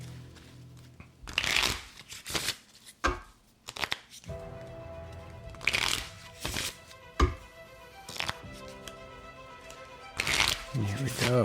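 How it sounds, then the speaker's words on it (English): A deck of playing cards is shuffled in repeated bursts of riffling and snapping, close and fairly loud, with someone talking between and over the shuffles. "We go right back into shuffling mode because we just pulled the Joker."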